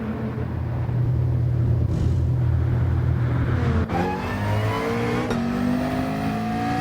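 A race car at Deep Forest Raceway in a racing video game accelerates out of the pit lane, its engine droning loudly and then climbing through rising gear sweeps.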